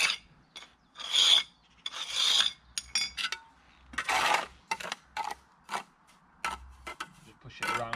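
A trowel scrapes and pushes jointing compound into the joints between patio slabs in short gritty strokes, each rasping pass separated by brief pauses, close and fairly quiet.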